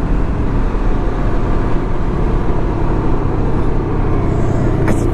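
A Can-Am Ryker 600 three-wheeler cruising near 60 mph, heard as a loud, constant roar of engine and wind rushing past close to the rider, with no break for the whole stretch.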